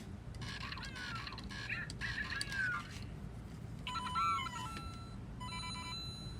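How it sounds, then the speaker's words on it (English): A Lego Mario toy plays electronic diving board sound effects, two short chirpy bursts of bright rising and falling tones, faint against quiet room background. "And it does make the diving board sound,"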